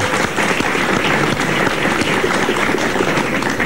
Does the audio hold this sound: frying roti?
no